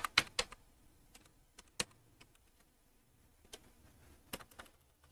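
Quiet, scattered keystrokes on a computer keyboard as an Aadhaar number is entered into an online college admission form, a few sharp clusters of taps separated by pauses, with no voices.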